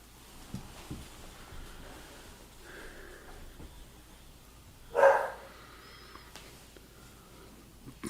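A dog gives a single short bark partway through, standing out clearly against a quiet room background.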